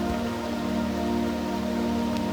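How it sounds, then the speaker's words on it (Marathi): Rain falls steadily on leaves along a monsoon waterfall trek, a dense continuous patter with a constant low hum running beneath it. "पावसाच्या थेंबांचा पानावर पडत असलेला आवाज एक वेगळा सूर देत होता"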